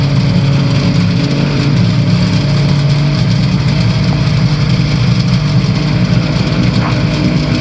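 Challenger II ultralight aircraft engine running on the ground while held against the brake, a steady, continuous drone close by with a slight change in pitch partway through.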